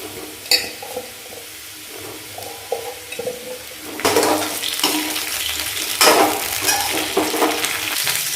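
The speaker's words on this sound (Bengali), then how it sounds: "ভাজার সময় মাঝে মধ্যে এটাকে চালাতেও হবে" Potatoes, carrots and cauliflower sizzle in a hot pan while a spoon scrapes and stirs them in bursts, the frying growing louder partway through.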